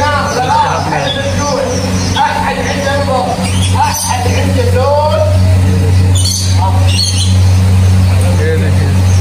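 A parrot in a bird market area in Kuwait calls and chirps in short bursts amid a busy street hubbub with traffic rumble and people talking nearby.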